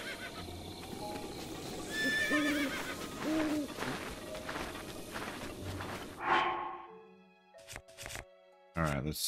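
A horse whinnies and snorts amid game-like ambience and hoofbeats in Zelda: Breath of the Wild, followed by scattered clicks and short electronic tones.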